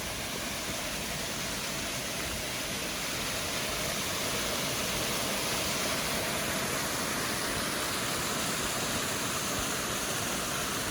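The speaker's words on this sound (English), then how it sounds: "This is a better waterfall than Bronte Falls." A waterfall near Bronte, a broad, constant rushing roar of falling water that stays steady and fills the scene from start to finish, with no talking.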